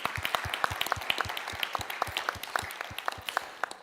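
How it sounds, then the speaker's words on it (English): Audience applause closing a 2025 symposium session: a steady patter of many hands clapping, fairly close and even, with no voices over it. "An applause."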